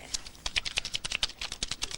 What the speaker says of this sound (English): Shuffle those up as much as you like.